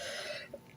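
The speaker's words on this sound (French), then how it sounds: "Excusez-moi, je tousse parce que je l'ai pas bu encore." A single short, dry cough sits close to the mic and fairly quiet, then trails off into near silence with a faint throaty catch.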